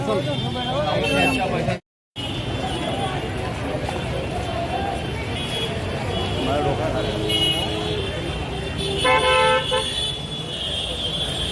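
A traffic jam in a crowded Mumbai wholesale market, Masjid Bunder, fills the scene with engine rumble and a steady crowd hubbub. People talk nearby, and a short horn toot sounds near the end.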